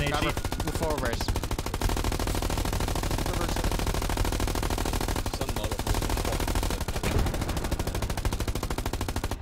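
Dense, continuous automatic gunfire and heavy explosive shelling from a World War II battle in the video game Hell Let Loose, sounding loud and unbroken throughout with rapid bursts layered over booming blasts.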